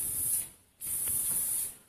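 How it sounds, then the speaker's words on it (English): Non-stick cooking spray hisses onto a waffle iron in two short bursts separated by a brief pause, close and steady. "Use just a little bit of some cooking spray."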